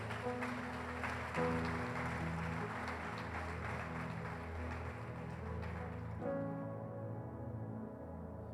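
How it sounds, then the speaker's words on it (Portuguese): A church congregation applauding during a worship service, a dense patter of clapping over a sustained musical backdrop that holds for several seconds, then the clapping drops away abruptly while the music lingers. "Você pode aplaudir o Senhor?"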